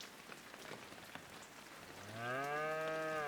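A cow in Shenmue 3 lets out one long, rising moo that swells loud and close over a faint background patter resembling rain.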